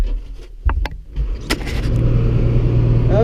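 A truck arriving to haul away a harvested bean crop. A low engine rumble grows steadily louder and fuller as it approaches, with a few sharp knocks early on and no talking.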